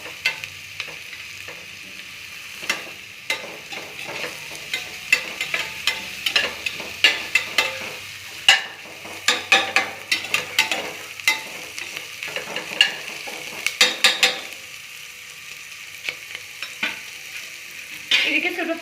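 Masala for tomato rice frying and being stirred in a pan until brownish, a steady sizzle broken by frequent scraping, clattering spoon strokes throughout, close and alone without talk.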